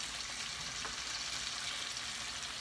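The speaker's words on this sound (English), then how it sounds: "They're already frying up nice." Constant crackling sizzle of striped bass frying in hot oil, close and steady throughout with no voices.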